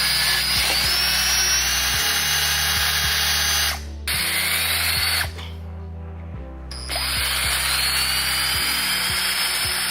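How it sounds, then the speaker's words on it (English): Power drill boring a hole for a bumper quick release mount, loud whining bursts that stop briefly and restart, with gear pitch rising as the bit spins up. "And now we are going to drill it."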